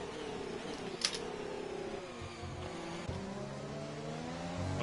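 F1 cars in a racing video game accelerate at a restart on the Circuit of the Americas layout, a dense pack of engine whines rising and overlapping with steady loudness, with no talking.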